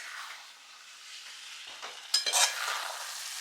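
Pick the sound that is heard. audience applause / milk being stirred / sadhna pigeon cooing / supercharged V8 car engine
milk being stirred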